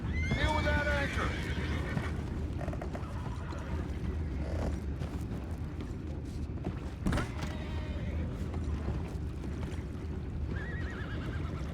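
Horses whinnying in the video game Red Dead Redemption 2, a loud neigh at the start and fainter ones later, over creaking wood, clip-clop and a steady rumble, with voices talking throughout.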